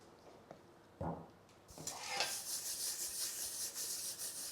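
A hand rubbing olive oil onto a pizza pan, a close, continuous soft scraping swish after a couple of small taps, steady and quiet.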